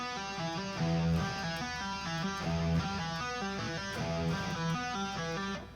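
Electric guitar playing a short section with a synth lead effect, a steady run of bright repeated notes and chord stabs, fairly quiet and alone with no speech.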